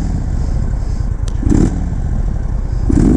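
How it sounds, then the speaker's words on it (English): An Indian Chief motorcycle engine rumbles loudly through its stock exhaust pipes, a close, deep, steady idle with two brief throttle blips. "That sounds pretty nice for these stock pipes."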